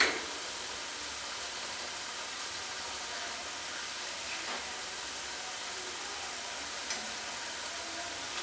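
Crispy potato snack pieces fry in hot oil with a steady, faint hiss and sizzle, an even bubbling wash with a few small pops.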